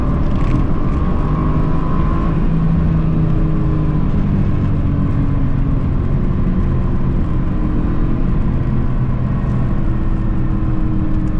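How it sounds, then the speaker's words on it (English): A turbocharged Mercedes-AMG GT engine drones steadily and loudly throughout, its pitch rising as it accelerates hard, with a constant rushing road and wind noise. "This car feels incredible when the turbos kick in."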